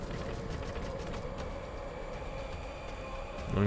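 A train arrives in the video game Choo Choo Survivor with a continuous mechanical rail rumble and creaking, swelling slightly louder at the very end.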